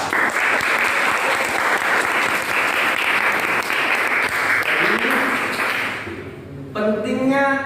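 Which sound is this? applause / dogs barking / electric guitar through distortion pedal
applause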